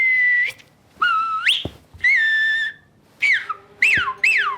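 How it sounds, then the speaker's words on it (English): Someone whistles a series of short, sliding notes in bursts with brief pauses between, close and clear. "I do know how to whistle."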